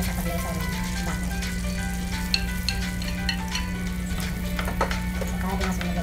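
Garlic sizzles and fries in melted butter in a pan, a steady close crackling hiss with small pops throughout, while a person talks over it.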